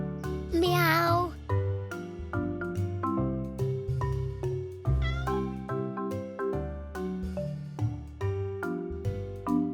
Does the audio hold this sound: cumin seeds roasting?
no